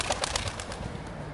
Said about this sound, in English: So some more beautiful pigeons.